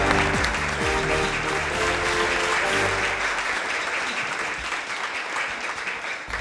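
A studio audience bursts into loud, sustained applause welcoming actors Arbaz Khan and Khushboo onto a comedy talk show. Music plays under the first half, then dense clapping carries on alone, slowly easing.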